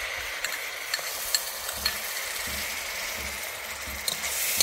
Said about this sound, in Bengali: টক দইটা কিন্তু খুব ভালোভাবে দেওয়ার সঙ্গে সঙ্গে নেড়ে নিতে হবে, না হলে দই ফেটে যাবে।